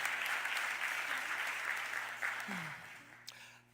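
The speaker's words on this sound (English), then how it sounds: "Please give them a huge round of applause." Audience applause at a public civic awards event in Philadelphia, steady dense clapping from a crowd heard at moderate distance, gradually tapering off.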